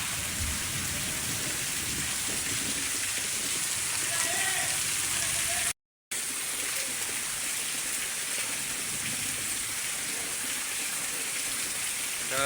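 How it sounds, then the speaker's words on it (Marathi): Heavy unseasonal rain pours down in Konkan, India, in a steady, dense hiss that carries on throughout, broken only by a brief moment of silence partway through. "कालपासून जरा जास्तच पावसाला सुरुवात झाली"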